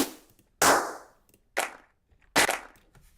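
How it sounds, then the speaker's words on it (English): Three sharp clap drum samples in a beat, each a crisp bright hit with a short tail, spaced roughly a second apart and standing alone with near-silence between. "let's get a clap in there, shall we?"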